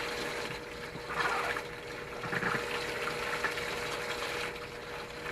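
Water runs and gushes steadily into a home-brewing container during a stovetop beer brew, a soft continuous flow that swells slightly a few times.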